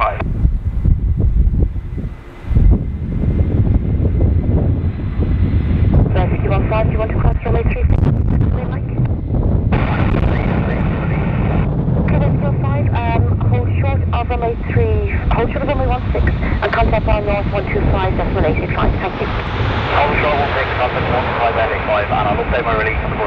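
Aircraft on approach in strong, gusty winds at Dublin Airport, a loud continuous engine roar buffeted by heavy wind noise, with air traffic control radio talk heard over it.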